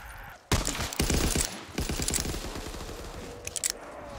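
Video game gunfire on a pirate island map: bursts of rapid automatic shots in quick succession, loud and close, with a brief pause between volleys and a few sharp single shots near the end.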